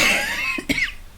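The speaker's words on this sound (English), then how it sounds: "excuse me, I'm going to cough." A single close cough from a person with coronavirus symptoms, a short throaty burst after a breathy exhale, alone in a quiet room.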